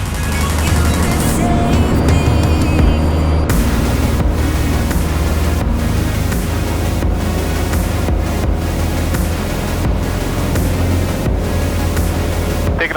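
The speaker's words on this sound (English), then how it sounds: "Taking off, basically full throttle." A small airplane engine roars at full throttle during takeoff, a loud, steady, dense drone with wind rush that holds without a break throughout.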